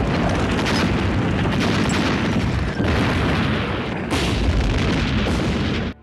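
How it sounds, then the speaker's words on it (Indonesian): Artillery barrage in a Stalingrad war battle: continuous heavy booms and rumbling blasts overlapping without pause, loud and dense, with a brief dip near the middle and a sharp cutoff at the end. "Pasukan Jerman mengawali serangan dengan menghujani tembakan senjata artileri ke area medan"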